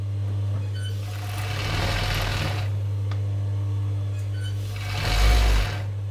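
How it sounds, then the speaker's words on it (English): An overlocker chain-stitching a garment sleeve runs in two steady close bursts with a short pause between, its motor humming under the stitching. "I'm going to just chain stitch the next sleeve straight in after it."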